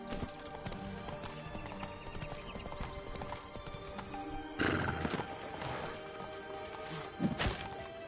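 A horse gallops in The Witcher 3 video game, rapid hoofbeats clip-clopping steadily with a whinny, heard alone over game ambience.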